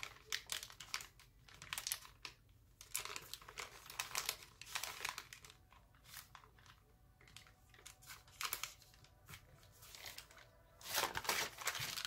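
Origami paper is creased and folded by hand for a Santa crane, with soft crinkling, rustling and light tapping sounds that come in short bursts and stay quiet and close.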